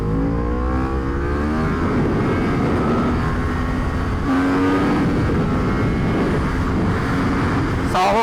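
A Yamaha R1 motorcycle ridden hard, its engine note rising and falling steadily through acceleration, loud and close with rushing wind throughout.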